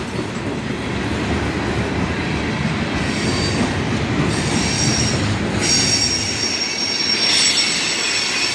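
A CSX freight train of old hopper cars rolls slowly past a station, its wheels squealing steadily over a continuous rumble of cars on the rails, close and loud throughout.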